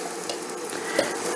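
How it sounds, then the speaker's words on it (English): Minced garlic and ginger sautéing in a pan over medium heat for chicken tikka masala, a steady close sizzle with light stirring scrapes throughout, no talking. "you just want to give that a quick saute until it becomes fragrant"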